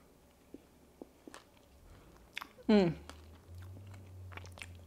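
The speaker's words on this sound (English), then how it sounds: "Digging right in here, a little whipped cream, a little berry on that spoon." Keto angel food cake with whipped cream and berries being eaten from a spoon: light scattered clicks and taps, a brief scraping sweep, then quiet soft chewing close by.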